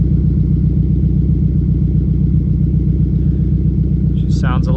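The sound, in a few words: Subaru WRX engine running after MAF sensor replacement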